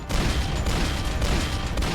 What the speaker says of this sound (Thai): เสียงปืนลั่นๆเลย